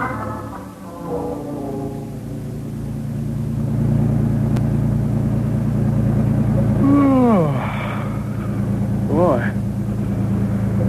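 A car engine running steadily while driving, giving a continuous low rumble and hum throughout, with voices speaking over it.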